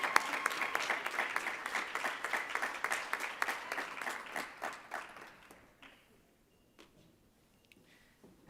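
Audience applauding at an awards ceremony, a dense burst of clapping that carries for about five seconds, then thins and fades into a quiet room with a few scattered claps.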